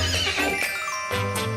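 A horse whinnies loudly and close by in a few harmonic bursts, with no one talking.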